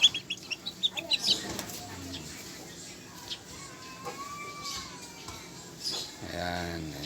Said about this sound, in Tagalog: Oh, tandang na. Tumitilaok na yan.